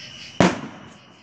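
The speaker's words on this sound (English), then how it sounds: "Hey guys, fireworks." A single firework bursts with a sharp, loud bang, then decays into a short crackling tail over quiet night air.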